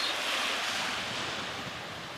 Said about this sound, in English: Wind's blowing from the southeast, probably about 15 knots.